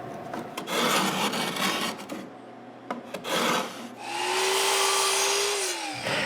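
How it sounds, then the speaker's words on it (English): Plastic edging being stripped off a wooden box and old glue scraped away, heard as loud, close rasping and rubbing strokes in bursts, with a rising tonal squeal near the end. "I need to remove the plastic edging and make sure all the glue is gone."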